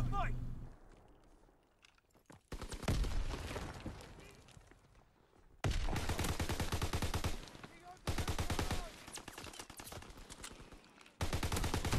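Automatic rifle fire in the Call of Duty WWII beta, loud bursts of rapid shots in several long volleys separated by short gaps, with quieter game sounds between them.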